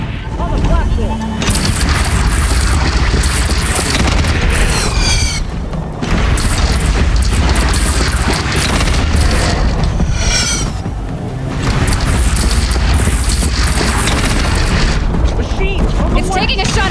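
Loud, repeated booming cannon blasts in a chaotic battle in Horizon Zero Dawn, dense rumbling bursts overlapping with shouting and mechanical clatter throughout.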